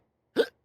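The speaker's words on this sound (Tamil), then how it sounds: "என்னங்கண்ணா திங்காமையே விக்கல் வருது?" One short, sharp hiccup sounds alone, close and clear, against silence.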